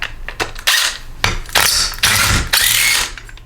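A hand ratchet loosens half-inch cylinder head bolts on a Briggs & Stratton 125K02 flathead engine, giving several loud, close bursts of rapid clicking separated by brief pauses.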